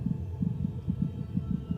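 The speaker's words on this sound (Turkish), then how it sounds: "Kalp atışı gibi." A heartbeat in a Minecraft horror map pounds out low, muffled double thumps in a steady, quick rhythm, about four beats in under two seconds, alone and fairly loud.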